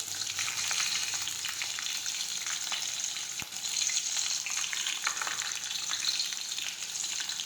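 Chopped green chili hits hot oil alongside curry leaves while tempering urad dal, setting off a bright, steady sizzle with occasional stirring clicks, close and continuous throughout.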